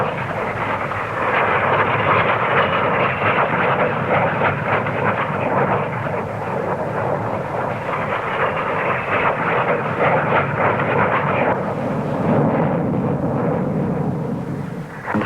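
An English Electric P-1 supersonic fighter with sharply swept wings flies past at an air show, its jet roar loud and continuous, swelling and holding as a dense, rushing blast with no voices over it.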